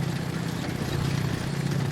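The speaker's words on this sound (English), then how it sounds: "this is what it sounds like with the engines turning over" Engines of a German tank running, as in an old wartime training film: a steady, continuous mechanical drone with a low hum, unbroken throughout and fairly loud.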